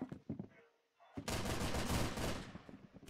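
Loud automatic weapon fire in the video game Arsenal, a dense sustained burst of rapid shots that begins after a brief quiet gap, following some short sounds at the start.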